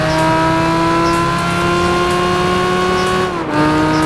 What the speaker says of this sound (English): Some examples of great sounds include the Lamborghini Gallardo,